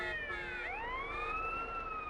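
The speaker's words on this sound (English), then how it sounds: "now we have the sirens actually on, so the traffic should theoretically get out of our way" Police car siren in GTA San Andreas, a wailing electronic tone that dips and then sweeps back up, steady and fairly quiet, heard alone without speech.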